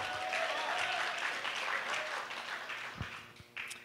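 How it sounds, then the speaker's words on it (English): A church congregation breaks into sustained applause, a dense, steady wash of clapping that fades slightly near the end, with a couple of sharp knocks. "give my son a round of applause"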